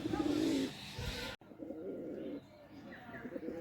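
Domestic desi pigeons, several of them recently sick, coo in short, low bursts nearby, loud at first, then quieter after an abrupt break.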